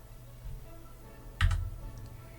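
A single computer keyboard key press or two near 1.4 seconds, sharp and moderately close, during kernel configuration on Crux Linux 3.7, with quiet background hum around it and no talk.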